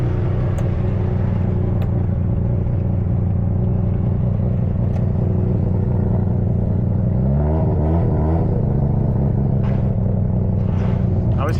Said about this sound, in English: shutting off the RX-7 because you gotta rev it